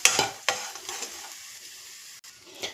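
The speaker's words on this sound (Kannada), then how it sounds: "ಒಂದು ಎರಡು ನಿಮಿಷ ಫ್ರೈ ಮಾಡ್ಕೊಂಡ್ರೆ ಸಾಕು ನೀಟಾಗಿ ಫ್ರೈ ಆಗುತ್ತೆ" Masala for coconut coriander rice frying and being stirred in a pan, with sharp scraping strokes of the spoon over a soft, steady sizzle, close and fairly quiet, with no voices.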